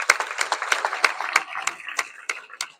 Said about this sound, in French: On peut remercier et applaudir Malone et Gabriel.